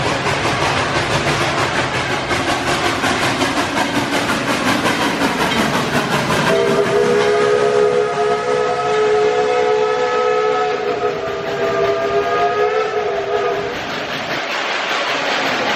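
A Dollywood theme-park train rumbles past steadily during the Smoky Mountain Christmas event, then a loud multi-tone whistle blows for several seconds before the sound fades.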